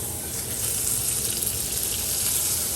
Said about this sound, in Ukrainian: Далі беремо вершкове масло і на сковорідку.